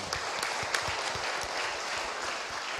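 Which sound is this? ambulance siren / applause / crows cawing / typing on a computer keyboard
applause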